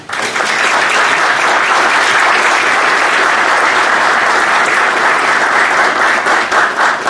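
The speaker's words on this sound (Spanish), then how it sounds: "Ese aplauso se merece el profesor." An audience at a keynote lecture on general theory gives the professor a loud, sustained round of applause. The dense clapping holds evenly from start to finish with no talk over it.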